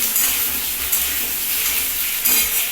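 Ginger and potato fry together in a pan, a loud, steady sizzling hiss with brief surges now and then, and no talking.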